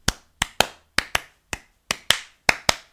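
Crisp, dry pop-song claps hit alone in a steady, slightly syncopated rhythm, about a dozen sharp hits with quick decays and nothing else around them.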